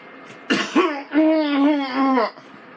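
A couple of harsh coughs burst out up close, followed by a drawn-out voiced throat sound, as if someone is acting out a cough.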